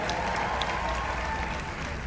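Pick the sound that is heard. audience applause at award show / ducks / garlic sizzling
audience applause at award show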